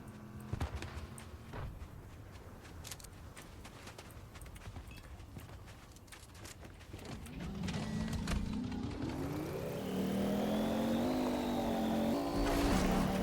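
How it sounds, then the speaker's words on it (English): A car passes with a broad, rushing noise that swells into a rising engine tone over several seconds, growing steadily louder toward the end. "I hear a car."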